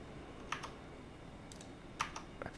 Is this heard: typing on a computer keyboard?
yes